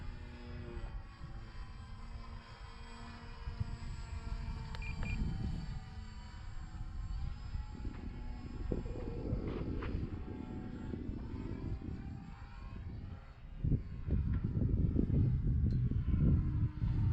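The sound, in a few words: model airplane flying overhead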